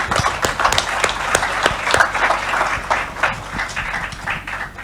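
Audience applause fills a hall at the USISPF India Leadership Summit 2024, a dense, steady patter of many hands clapping at moderate loudness for several seconds.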